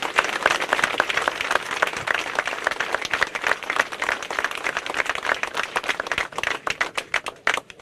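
A crowd claps hard at an election campaign rally in Parakar, Armenia, the dense, loud applause going on throughout and thinning into separate claps near the end.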